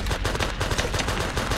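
Enemy gunfire in the shooter game Project IGI, a loud, dense stream of rapid shots rattling continuously through the whole moment without any speech.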